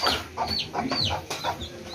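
Chickens cluck repeatedly in a busy outdoor setting at a river nature camp, several birds close by with overlapping, uneven calls.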